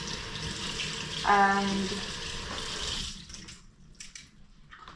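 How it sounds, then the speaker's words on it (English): Running tap water splashes over salt fish being rinsed of its salt, a continuous close flow that tapers off after a few seconds, with a brief voice over it. "Need to wash off the salt from the saltfish."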